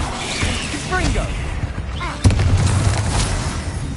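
Confringo blasting spell in Hogwarts Legacy on PS5 bursts with a sudden sharp explosive crack, followed by a rumbling, crackling tail amid whooshing spell effects.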